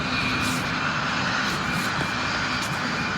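Simulated cargo jet engines, Airbus Beluga or Boeing Dreamlifter in a flight simulator game, give a steady, loud, broadband drone throughout with no breaks and no speech.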